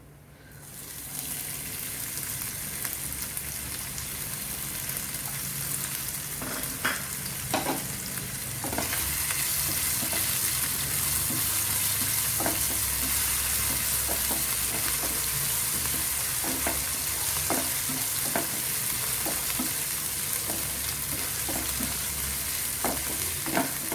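Crushed ginger, garlic and chillies drop into hot oil with cumin seeds and set off a loud, steady sizzle that swells after a few seconds, with occasional spatula scrapes, close and free of talk.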